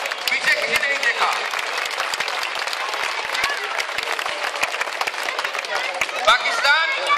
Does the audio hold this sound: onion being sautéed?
no